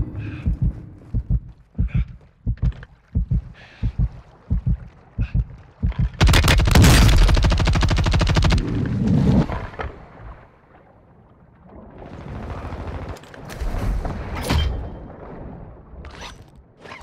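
Rapid gunfire crackles in Call of Duty: Modern Warfare II. A steady heartbeat-like thumping comes first, then a loud dense burst of firing, then scattered shots and impacts that trail off.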